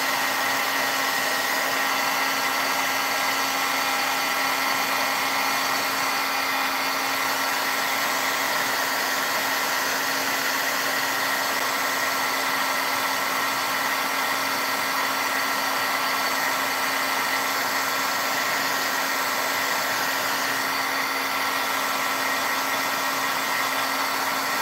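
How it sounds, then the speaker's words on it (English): A craft heat tool blows hot air to dry painted backgrounds before foiling with a laminator, a steady continuous whirring hiss with a constant motor hum, close and unbroken throughout. "let's see what happens if we try to speed up this process with our heat tool"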